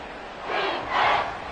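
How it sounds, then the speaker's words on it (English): Stadium crowd noise in the Madden 25 football video game swells into a loud, broad roar that rises twice in quick succession during a big play. "A big play here as the crowd noise rises"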